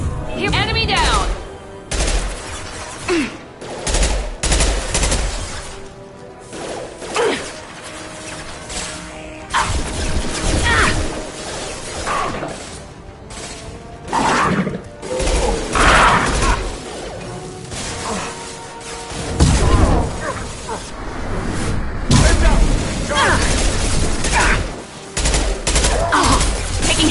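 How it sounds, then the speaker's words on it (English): Heavy gunfire in a video game, loud repeated volleys and crashing impacts over nearly half a minute, mixed with game music, combat sound effects and frequent voice callouts. "Taking heavy fire!"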